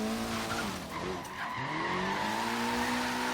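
A Mitsubishi Evo VIII drifting at low speed in second gear in Forza Horizon 3, tires skidding and squealing continuously over a loud, steady engine note for the whole short stretch.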